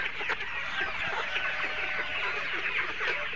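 Layer hens, 74 days old, clucking on a poultry farm, a dense, continuous chorus of many birds close by, steady and fairly loud with no talking.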